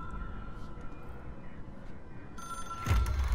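An old-fashioned telephone rings in the video game Control, a faint electronic tone over steady low rumble, then a sharp burst and brighter ringing near the end.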